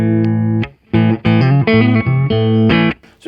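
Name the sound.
guitar through Marshall Valvestate 40V 8040 amp, clean channel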